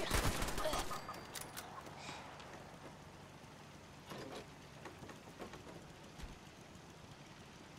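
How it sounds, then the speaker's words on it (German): Turrets firing in the video game Fallout 76: rapid bursts of gunfire crackle at the start, then scattered quieter shots and clatter trail off at moderate distance. "Da haben unsere Geschütztürme geschossen."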